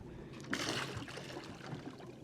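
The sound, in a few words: Chasing underwater robot dropped into water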